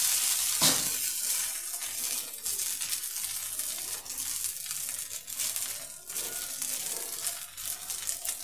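Millet dosa batter on a hot pan, a continuous soft sizzle with scattered crackles and a sharp tap early on, close and fairly quiet.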